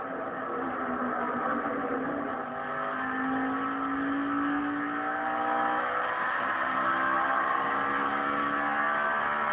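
NASCAR race cars accelerate together on a restart at Phoenix, a dense, loud roar of many engines with rising and overlapping pitches that stays steady and sustained without pause.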